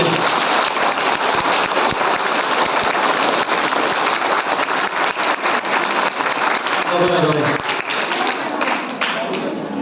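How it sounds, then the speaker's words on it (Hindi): A village crowd claps loudly for a visiting bishop, dense continuous applause with sharp individual claps standing out, and a voice cutting in briefly near the end. "तो एक बार जोरदार तालियां मारते हैं हमारा लॉर्डशिप के लिए।"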